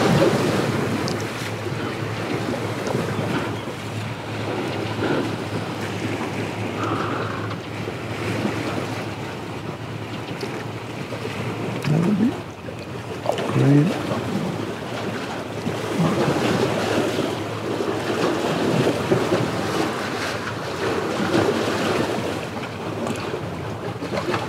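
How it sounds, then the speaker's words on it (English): Ocean waves roll in against a pier in a steady, loud wash of surf, with heavy wind buffeting the microphone outdoors and no speech throughout. "waves coming, attacking me here"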